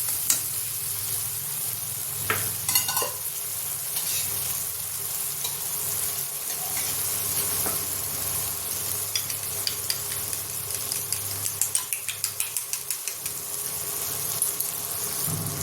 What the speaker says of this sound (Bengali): সর্ষে পোস্ত কম আঁচে একটু ভেজে নেব।